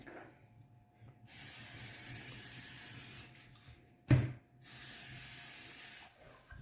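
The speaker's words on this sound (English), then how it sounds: "We're going to take the oil and we're going to spray it all on the side, on top" Cooking oil sprayed onto ribeye steaks before grilling on a Pit Barrel cooker: two sustained hissing bursts of a few seconds each, close and moderately loud, separated by a short sharp clack and quiet gaps.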